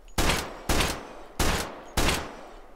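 Four sharp Team Fortress 2 gunshots ring out in a VR video game, evenly spaced about half a second to three-quarters of a second apart, each loud, close and trailing a brief echoing decay, with no talk over them.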